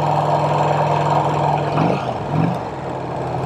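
A 1951 Vincent Rapide motorcycle engine runs with a steady droning tone and a low rumble, and the pitch sweeps upward twice as the rider shifts gears on the road.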